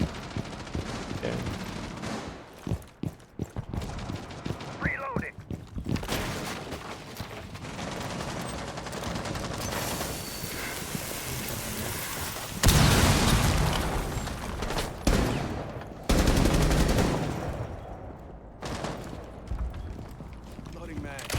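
Gunfire in Rainbow Six during a wall breach, with bursts of shots and booming blasts spread through the stretch, loud at times, mixed with game noise and a voice talking.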